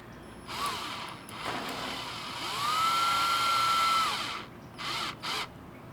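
A power drill whirs up, spins steadily for a couple of seconds tightening a homemade heating element, then stops, followed by a few short bursts of spinning.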